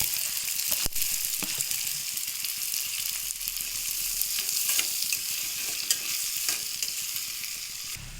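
Chopped onions, four of them, frying in a pan for an egg curry, giving a constant close sizzle with stirring scrapes and a sharp clack near the start, steady and moderately loud with no voices.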